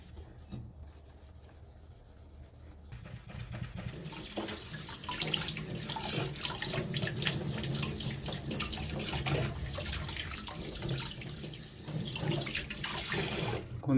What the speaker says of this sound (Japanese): 最後に綺麗に洗ってですね